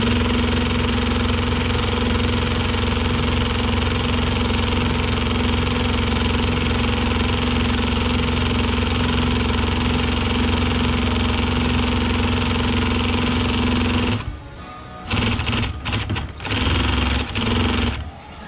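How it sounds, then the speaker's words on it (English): A sewing machine sews a seam with a loud, steady mechanical drone that runs continuously for about fourteen seconds, then stops and starts in short uneven bursts. "Sew it down again."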